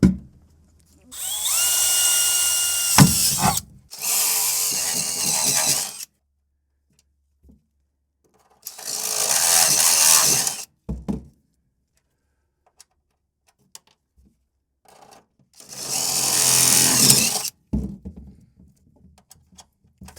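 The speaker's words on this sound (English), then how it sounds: "So I'm gonna drill a hole right there." A power drill whirs loudly in three separate bursts of a few seconds each, drilling holes in an MGB's interior, separated by quiet pauses with faint clicks.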